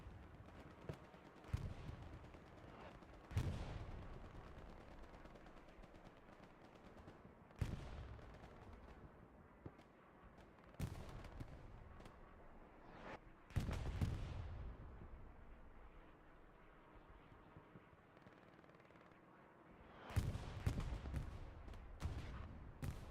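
Tank cannon fire in a Hurtgen Forest battle within a video game, several sharp booming shots at irregular intervals, each followed by a decaying rumble, with quieter background battle noise between them.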